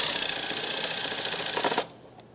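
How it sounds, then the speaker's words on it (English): A continuous whirring of a power tool loosening a 10mm battery hold-down mounting nut on a 2003-2008 Toyota Corolla, running steadily for nearly two seconds before cutting off abruptly, close up. "Let's start by loosening that mounting nut first."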